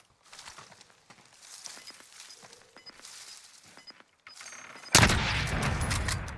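In the Warzone shooter game, scattered footsteps and distant shots give way to a sudden loud burst of close rapid gunfire that continues to the end.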